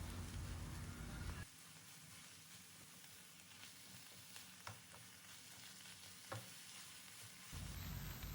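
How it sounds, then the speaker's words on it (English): Spinach sautéing in butter with fried onion, ginger and garlic over a medium flame, a faint steady sizzle with a few scattered stirring taps, set between stretches of louder background hum. "On medium flame we will saute the spinach well for 2 minutes"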